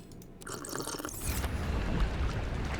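Water gurgles and pours while a character drinks in the underwater game Subnautica Below Zero, a short liquid swallowing and sloshing burst that swells into a thick, close rush.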